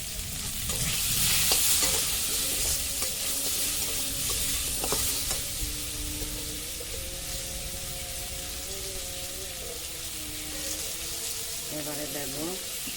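Cabbage frying in a pan with salt and turmeric in a village kitchen, with soft sizzling, repeated stirring scrapes and clatters early on, and someone talking quietly underneath.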